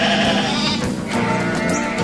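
Several sheep bleat loudly and close together, their overlapping cries filling a busy pen.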